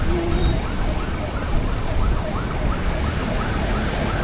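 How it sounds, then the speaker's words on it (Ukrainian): Police car sirens wailing loudly as the vehicles pass close by on a riverside street, rising and falling tones over steady traffic noise. "Поліція їде. Бачиш? Щось трапилося, мабуть."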